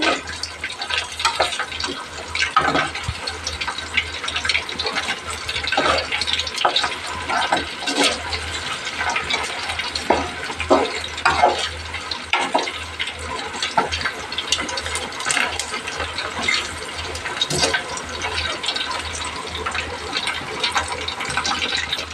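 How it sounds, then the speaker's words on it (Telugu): Chicken pakoda fries in hot oil while being stirred, a dense, steady sizzle that runs throughout, close and loud, with occasional scraping from the stirring. "ఇంకా కొంచెం అవ్వాలండి ఇది బాగా ఫ్రై అవ్వాలి కదా చికెన్ పకోడా"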